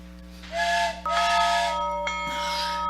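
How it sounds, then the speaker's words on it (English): A long, wailing steam train whistle sounds in several blasts over a low mechanical rumble and hiss, with pitch bending slightly as it sustains, as a train approaches a stalled car on the tracks. "I could hear its bell ringing and the cry of its whistle."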